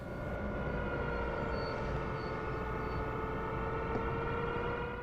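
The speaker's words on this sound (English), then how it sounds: "That was the sound of the brakes" Train brakes in the Train Sim World video game on the New York Northeast Corridor: a steady, loud mechanical rumble with sustained whining and droning tones, continuous and unchanging throughout.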